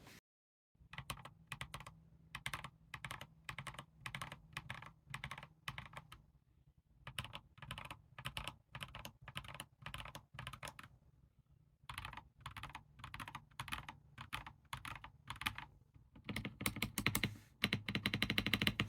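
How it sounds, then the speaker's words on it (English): Typing on a budget mechanical keyboard with swapped switches, in quick bursts of clacky keystrokes, with short pauses between runs and a louder, denser stretch near the end. "let's take a listen to see what this keyboard sounds like with different switches"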